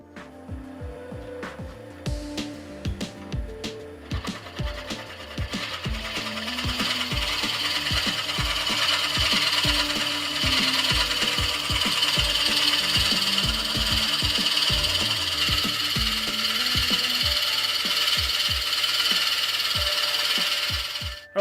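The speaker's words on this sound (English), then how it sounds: "So the next thing I'm going to do is to drill this out." A Morse taper drill bit in a lathe tailstock bores into black acacia stump wood, giving a loud, continuous grinding rasp with rapid rhythmic chatter that builds and holds steady before cutting off abruptly.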